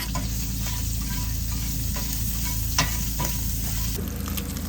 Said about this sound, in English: You just want to brown this sausage.